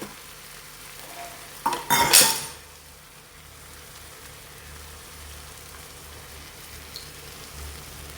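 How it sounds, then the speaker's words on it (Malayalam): A quiet background hiss is broken by a short, loud burst of sizzling as fried mackerel is added to masala in a hot pan, then it settles back to a low sizzle. "ഇനി ഇതിലേക്ക് നമുക്ക് വറുത്ത് വെച്ചിരിക്കുന്ന മീനുണ്ടല്ലോ അത് ഇതിലേക്ക് ചേർത്ത് കൊടുക്കാം."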